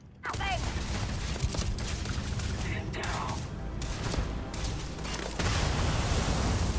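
Grenade blasts and gunfire in the sci-fi shooter Starfield, a dense, loud barrage of booms and crackling bursts running throughout, with a brief gap before another swell.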